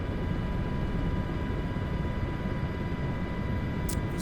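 Steady droning rumble of a rescue helicopter flying over the Bering Sea in Microsoft Flight Simulator 2024, a constant dense roar with no pauses and no talking.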